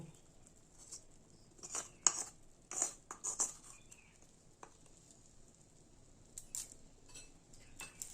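Puffed rice (murmura) being stirred with diluted yogurt in a bowl, faint and close: scattered soft clicks and wet crackles in short bursts, with quiet gaps between them.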